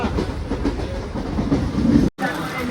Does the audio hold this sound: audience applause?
no